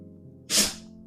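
A single sharp sneeze bursts out against a quiet room with a low hum, loud and close, lasting well under a second.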